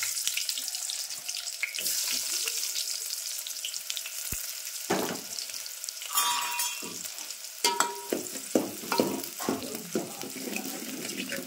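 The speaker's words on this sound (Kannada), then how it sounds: "ಈಗ ಸಾಸಿವೆ ಚಟ್ಪಟ್ ಅಂತ ಸಿಡ್ಲಿಕ್ಕತ್ತಾವ ನೋಡ್ರಿ ಈ ಟೈಮ್ನಾಗ ನಾನಲ್ಲಿ ಉಳ್ಳಾಗಡ್ಡಿನ ಹಾಕೊಂಡಿರ್ತೀನಿ" Mustard seeds crackle in hot oil before onions go into the pan, a hissing sizzle broken by sharp scattered pops and clatters that grow more frequent toward the end.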